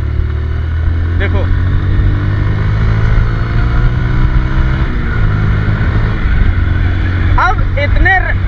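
A Bajaj Pulsar 150 motorcycle engine pulls at low speed in gear, a steady low rumble running throughout, loud and close, while someone talks over it.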